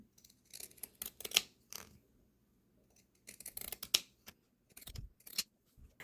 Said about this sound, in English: To finish off step 1, we're now going to trim this seam.